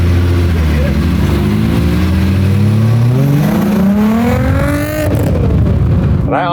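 VR6-swapped project car engine revving up from a low rumble, pitch climbing steadily over several seconds before easing off, loud and close with no speech.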